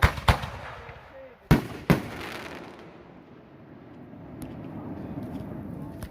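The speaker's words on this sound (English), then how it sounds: "so we're hanging out, watching fireworks at the hostel" Fireworks go off near a hostel on a hot, dry evening with lightning around, three or four sharp loud bangs early, then a low rumbling crackle fading in the distance.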